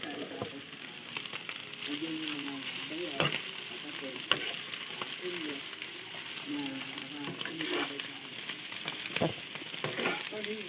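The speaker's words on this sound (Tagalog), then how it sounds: "Gisahin natin yung bituka ng" Chicken intestines sautéing in a pan with sautéed onion and garlic, a steady close sizzle with scraping and stirring clatters throughout, and a voice talking faintly now and then.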